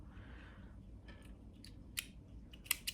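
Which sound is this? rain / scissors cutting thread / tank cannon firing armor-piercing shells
scissors cutting thread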